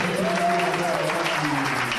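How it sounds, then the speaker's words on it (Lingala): Congregation at a church service applauding for the Lord, a dense, continuous wash of clapping and crowd noise with voices mixed in. "acclamez très fort le Seigneur"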